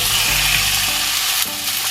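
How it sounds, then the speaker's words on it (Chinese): Pork belly frying in shallow oil in a wok, a loud, close, continuous sizzle with stirring scrapes and no talking. "现在把五花肉倒入锅中"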